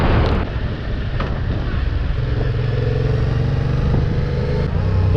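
A Yamaha MT-07 motorcycle being ridden on a sunny day, its engine hum steady beneath heavy wind rush buffeting the microphone, with a brief rise in engine tone partway through.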